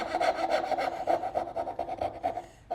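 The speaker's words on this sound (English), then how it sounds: "When you turn the saw like that, it keeps it from sliding anymore, and it makes it a little easier to start." A hand saw cuts through wood in quick, rhythmic back-and-forth strokes, a close, rasping scrape repeating evenly for a few seconds with no one speaking.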